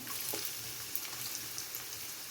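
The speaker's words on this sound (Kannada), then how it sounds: "4 ಸ್ಪೂನ್ ಎಣ್ಣೆ ಹಾಕ್ಕೊಂಡಿದ್ದೀನಿ. ನೋಡಿ, ಈರುಳ್ಳಿ ಹಾಕ್ಕೊತಾ ಇದ್ದೀನಿ" Onion frying in about four spoons of oil in a pan, heard as a soft, steady crackling sizzle with small pops throughout, quiet and without any talk.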